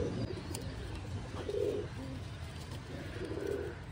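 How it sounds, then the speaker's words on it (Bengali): Several young pet pigeons coo softly in short throaty bursts, fairly faint against a steady background hum, with no talk. "আমার কিছু ছোট ছোট পায়রা আছে"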